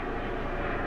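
A helicopter passing overhead, heard as a steady, broad rumbling roar that holds at moderate loudness for a moment, with no talk.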